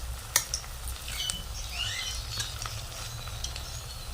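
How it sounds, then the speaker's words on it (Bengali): Chicken pakora with potato fries slowly in oil, a gentle low bubbling sizzle with a few soft utensil clicks and light crackles over a steady background hum. "এগুলো খুব ধীরে ধীরে ভাজতে হবে, তবেই কিন্তু মাংসগুলো ভেতর থেকে খুব সুন্দরভাবে সেদ্ধ হবে আর ভাজা হবে।"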